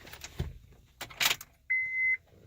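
Car keys jangle in short, close metallic bursts inside a car before it starts, followed by a single steady electronic beep from the dashboard.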